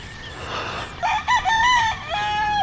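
Gamefowl roosters on a game farm crow close by, one loud cock-a-doodle-doo call rising and breaking into wavering notes, with fainter clucking and crowing from other birds behind.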